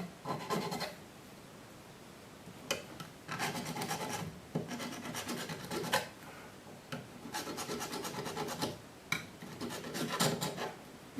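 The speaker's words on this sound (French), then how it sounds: "le truc qu'on peut faire c'est limer un peu le bout pour qu'il soit" Close, steady rasping of a file across the cut end of a metal pen clip, in several separate strokes and bursts with short pauses between, no talking.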